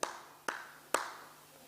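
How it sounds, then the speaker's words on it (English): Three sharp hand claps, spaced evenly about half a second apart, each ringing briefly in a reverberant room during a lecture, with no talking between them. "Then he clapped like that."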